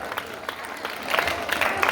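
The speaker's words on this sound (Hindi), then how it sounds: "जोरदार ताली। आप लोगों की ताली में कमी पड़" Audience applause at a school Children's Day fair: scattered, moderately loud clapping from a crowd that builds toward the end.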